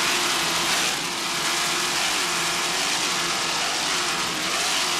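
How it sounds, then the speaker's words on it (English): Offshore racing powerboat, a Northwest-powered skater with twin 950 hp Northwest inboard engines and Mercruiser drives, roaring steadily and loudly throughout with a broad, sustained engine drone and no voices. "a Northwest inboard powered skater powered by two 950 horsepower Northwest inboards with Mercruiser drives"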